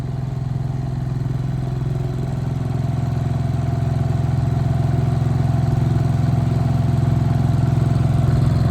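A 7 hp four-stroke small engine runs steadily on its first test, a loud, close, continuous chugging drone with mechanical clatter that holds even for about nine seconds, with no talk over it.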